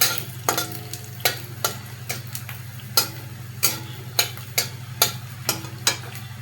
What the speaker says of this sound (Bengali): তেল গরম হয়ে গেছে, আমি রাঁধুনি ফোড়ন দিলাম, শুকনো লঙ্কা দিয়ে দিলাম